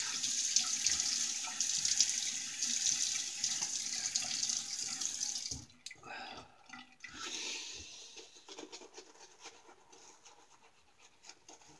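A tap runs steadily for about six seconds while the face is wetted before shaving, then stops; afterwards come softer splashes and rubbing sounds that fade out, with no talking.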